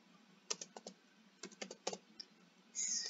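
Keys on a computer keyboard click in a few quick clusters as JavaScript code is typed, close and crisp against a quiet room, ending with a brief brighter burst.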